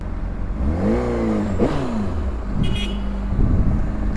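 A car engine revs up and down in a couple of short bursts, with a steady road drone underneath and brief horn-like tones.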